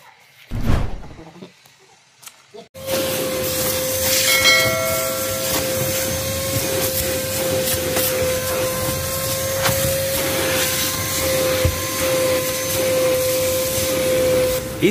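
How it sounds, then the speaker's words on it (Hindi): A Prestige Typhoon 05 vacuum cleaner with a 1200-watt motor cleans a dusty car seat. A few soft knocks come first, then the motor starts after about three seconds and runs as a loud, steady, whining roar until the end. "इस वैक्यूम क्लीनर के अंदर 1200 वाट का पावरफुल मोटर लगा है, इसकी वजह से इसका जो सक्शन पावर है काफ़ी अच्छा है।"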